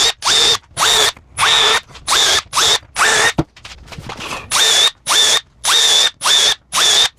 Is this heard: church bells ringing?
no